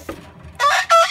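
Chickens pecking at and feeding on a pumpkin shell give two short bursts of clucking and squawking, close and fairly loud, after a quieter start with a soft thump.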